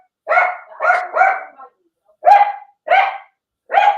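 Several dogs bark close by in quick bursts, first three rapid barks in a row, then three more spaced apart, sharp and loud with silence between.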